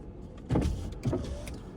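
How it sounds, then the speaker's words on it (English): A car's electric power window motor runs while the car is stopped at a street corner in Hasbrouck Heights, New Jersey, giving two short bursts of whirring under faint traffic ambience. "Lower the window a little bit"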